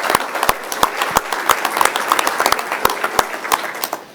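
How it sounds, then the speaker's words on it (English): Applause fills a board meeting room, many hands clapping in a steady mass with several sharp, distinct claps standing out near the microphone. "Round of applause"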